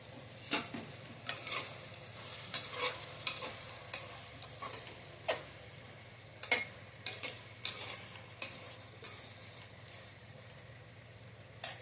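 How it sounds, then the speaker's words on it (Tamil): Chicken fries in a hot pan with a low, steady sizzle, broken by frequent scraping stirs and clinks of a spatula that come in uneven bursts throughout. "நான் சிக்கன் வறுத்து போட பார்க்கலாம்"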